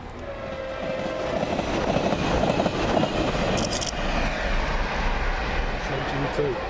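British Rail Class 185 unit 185106 passing at Swinton on a Manchester Airport to Cleethorpes service, a loud continuous rumble and roar of wheels and engine close by, with a brief higher squeal near the middle.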